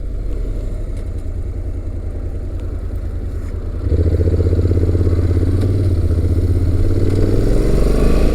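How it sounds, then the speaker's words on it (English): Honda NC700X DCT parallel-twin motorcycle with a V-twin-like feel, its engine rumbling steadily while being ridden, a low throbbing drone that grows louder and fuller partway through as the revs rise. "It's a parallel twin, but it has more of a kind of a V-twin rumble to it and a V-twin feel."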